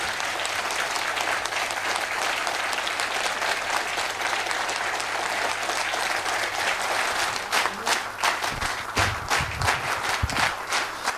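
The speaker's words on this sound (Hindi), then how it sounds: "जोरदार तालियों के बीच में स्वागत करते हैं चेतन सर का।" Audience applause welcoming a presenter at a training programme, a dense, steady wash of many hands clapping for about eight seconds before thinning into scattered claps and some shuffling near the end.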